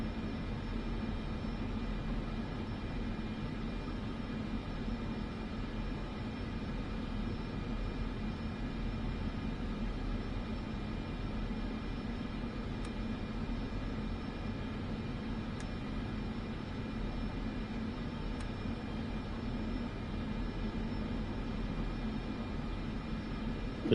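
Steady aircraft engine drone of an airplane taxiing in Microsoft Flight Simulator 2024 on PS5, a constant hum with low rumble and a faint high whine throughout, with no talk.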